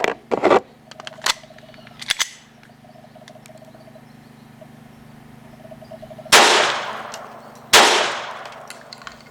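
Two loud, sharp reports from a Sig Mosquito .22 pistol firing shot shells, each with a short decaying tail, preceded by lighter clicks and metallic clanks of handling over a low background hum.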